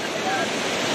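A small waterfall at Tirathgarh falls produces a steady, dense rushing of falling water, loud and continuous through the whole short moment.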